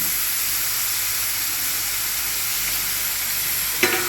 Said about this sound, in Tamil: இது வந்து நல்லா கொஞ்சம் ஃப்ரை ஆகும், அவ்வளோதான்.